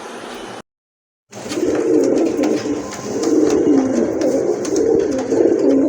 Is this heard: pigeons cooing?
yes